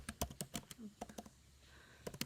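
Rapid keystrokes on a computer keyboard while a product is entered into a library in software, clacking in quick bursts near the mic with a short pause before a final flurry.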